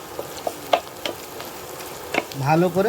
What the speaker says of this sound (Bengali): কড়া করে ভেজে নিলে হয়ে গেল ডিমের মিষ্টি